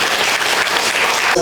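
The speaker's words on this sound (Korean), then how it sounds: "네, 큰 박수 부탁드립니다." Brief burst of loud crowd applause at a Buddhist memorial tea ceremony, dense steady clapping filling the whole moment before a tonal sound cuts in at the end.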